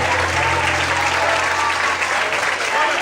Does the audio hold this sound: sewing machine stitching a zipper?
no